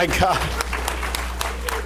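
Guests at a Montgomery County mental health award reception clap in a brief, scattered smattering beneath someone speaking into a microphone.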